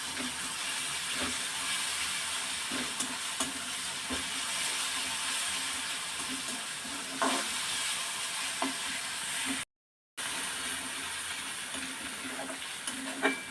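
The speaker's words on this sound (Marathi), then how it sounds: "आणि चांगला परतून घ्यायचा आहे मिरचीचा ठेचा" Crushed green chili paste sautés in hot oil in a pan for a tomato chutney, giving a steady close sizzle broken by occasional scraping knocks of a spoon.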